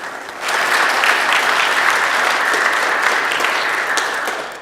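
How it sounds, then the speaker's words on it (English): Church congregation at a Sunday worship service claps hands in a loud, sustained burst of applause. It starts abruptly and stays even throughout. "let's clap our hands"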